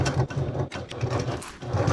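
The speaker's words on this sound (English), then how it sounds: "We're going to go to the sewing machine and we're going to top stitch alongside the edge of the gusset exterior." A sewing machine runs close by, top stitching along the exterior edge of a backpack gusset, its needle hammering in a rapid, steady mechanical whir with brief slowdowns.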